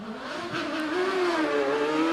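Empire Evo hill climb racing car with a 1-litre Suzuki GSX-R motorcycle engine accelerating hard at Prescott Speed Hill Climb, a high revving wail rising and shifting as it passes close by.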